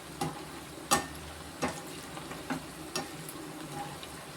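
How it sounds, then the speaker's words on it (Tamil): Cassava chips gently stirred as they fry in oil, several separate scraping strokes spaced about a second apart over a soft continuous sizzle, no voices. "இப்போ நம்ம வந்து லேசாக கிண்டி விடுவோம்"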